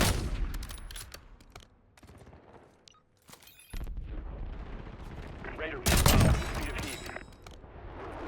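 Bursts of gunfire in Warzone crackle in clusters, with a loud, dense volley near the middle, separated by quieter stretches and brief pauses.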